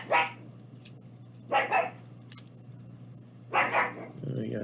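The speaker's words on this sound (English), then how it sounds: "Mocha, you gotta shut up. Bad dog." A pet dog barks in short bursts three times, fairly close, with quiet room noise and a low hum between barks, and a final whimpering yip at the end.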